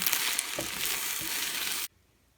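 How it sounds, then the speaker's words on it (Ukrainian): A mushroom omelette being stirred into a scramble in a hot pan, a steady loud sizzle with a few soft spatula scrapes that cuts off abruptly into near silence. "Омлет знизу схопився, і тепер я його просто отак от мішаю, готуючи як звичайний скрамбл"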